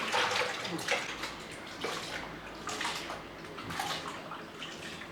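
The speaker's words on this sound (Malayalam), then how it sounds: "നമുക്കൊരല്പം വിനാഗിരി ഒഴിച്ച് ഇതൊന്ന് കഴുകിയെടുക്കാം" Tap water runs steadily into a sink while squid is rinsed with vinegar for a Kerala-style dish, a continuous close splashing rush with small surges and no voices.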